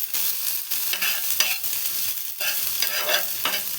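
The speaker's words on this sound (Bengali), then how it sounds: "ওর মধ্যে পেঁয়াজ কুচি দিয়ে দেবো, একটু কাঁচা লঙ্কা দিয়ে দিলাম।" Chopped onion and green chilli frying in a little hot oil in a pan, a steady bright sizzle with intermittent scraping stirs throughout, close and fairly loud with no voices.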